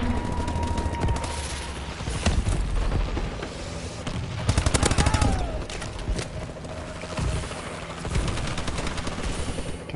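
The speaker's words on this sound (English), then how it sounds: "Friendly missile strikes inbound." Missile strikes in a first-person shooter land amid dense, continuous gunfire. A descending whistle is followed by heavy booms and thuds, all loud and chaotic, with no voices.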